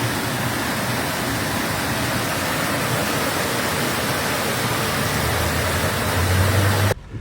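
Steady, loud rush of floodwater through streets in Hamilton County, Cincinnati, Ohio, a continuous broadband roar with no breaks, cutting off abruptly at the end.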